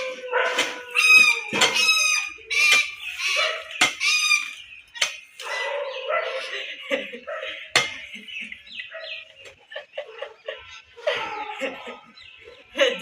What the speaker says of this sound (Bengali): এতক্ষণ এই কাকগুলো চিল্লাচ্ছিল